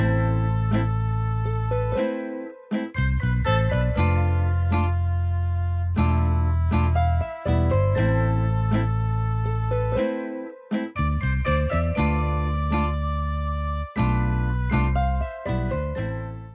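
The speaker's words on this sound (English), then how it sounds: "Rickenbacker bass. And it sounds like this." A Rickenbacker bass guitar plays a melodic line of sustained, punchy notes with short gaps between phrases, clear and alone.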